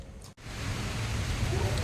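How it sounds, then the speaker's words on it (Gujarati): Steady, dense rain hisses down continuously, a broad wash of noise after a brief dip at the start. "વરસાદ ચાલુ થઈ ગયો છે"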